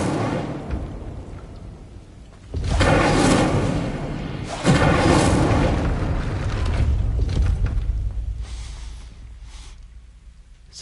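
A fire spell bursts in Hogwarts Legacy on PS5, a deep booming roar that swells twice in heavy, rumbling waves, loud and close, then slowly fades into a low ambient hum.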